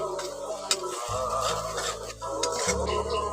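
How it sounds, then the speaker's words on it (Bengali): Onions cook down with cumin, chilli and turmeric powder for a fish curry, with a spoon scraping and clinking against the pan over a low sizzle, close and continuous, with no talking. "ওগুলো দিয়ে ভালো করে পেঁয়াজটাকে একটু কষে নিচ্ছি"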